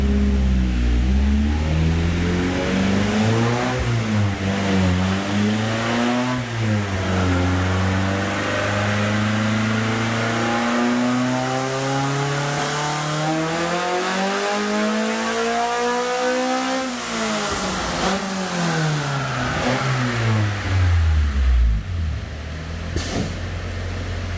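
A Honda H22 engine on a nitrous shot, a 75 shot, screams through a long, loud pull on a dyno, its pitch climbing steadily, dipping briefly, then rising again before dropping off at the end, close and alone.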